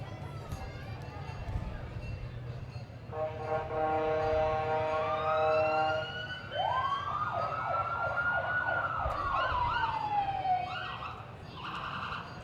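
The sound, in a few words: OPP police cruiser siren in a parade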